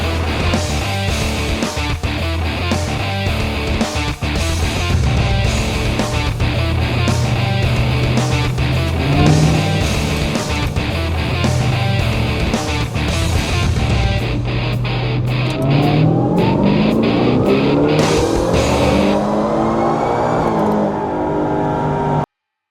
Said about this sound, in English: we are currently rolling the dyno to make sure everything looks good.